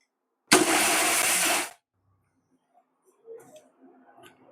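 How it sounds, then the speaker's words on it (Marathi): An electric kitchen mixer grinds ashwagandha root and white musli in a loud, steady whir lasting just over a second, then cuts off abruptly, followed by faint clinks and handling noises. "आता इथे आपण सफेद मुसळी दळून घेतोय. ही अश्वगंधा पण आता आपण दळून घेऊया."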